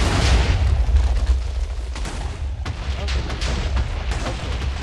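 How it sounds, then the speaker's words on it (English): TNT blocks detonating over and over in a modded Minecraft world, a continuous rumbling barrage of booms and crackling blasts with heavy low-end roar throughout, loud and close. "You ignite it, and it keeps exploding as soon as you ignite it"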